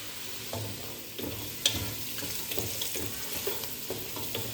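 Pilau ingredients are stirred in a pan, a spoon scraping and shuffling through them in rhythmic, fairly close strokes with a faint sizzle underneath.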